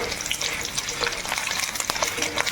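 Sago pearls frying in hot oil inside a sieve ladle, making a dense, close crackle and bubbling hiss with light scraping from the ladle and no talk.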